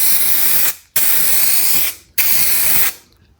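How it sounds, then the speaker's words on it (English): Aerosol spray paint from a well-shaken can hisses onto a test card close up in three loud bursts, each nearly a second long, with short silent gaps between them. "take your test card and apply the paint."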